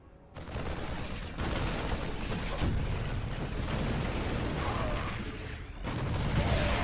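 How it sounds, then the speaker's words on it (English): Grenade explosions and battle noise from the StarCraft II campaign roar as a dense, loud, continuous wash of blasts and gunfire, dipping briefly near the end before surging again. "Go ahead and blow up the remainder of this. Got a couple more grenades."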